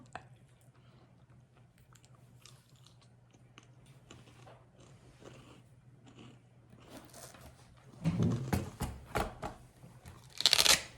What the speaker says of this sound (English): Are you chewing?